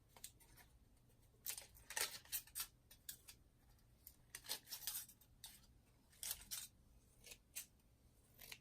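Scissors snipping through crinkly foil in a series of short, crackling bursts, some quick and clustered, with brief pauses between cuts.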